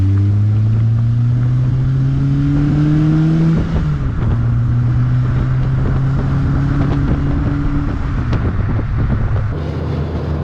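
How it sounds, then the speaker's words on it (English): A Peugeot 106 Rallye GTI engine revs near the microphone, its tone climbing steadily, dropping, then climbing again over a rough, wind-buffeted background. "The engine is up to temperature now"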